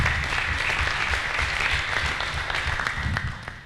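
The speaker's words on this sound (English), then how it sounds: "So a round of applause and thank you to all of our county commissioners." Applause for county commissioners at a local government shared services meeting: steady, dense clapping from a room of people, fairly loud and continuous, tapering slightly at the end.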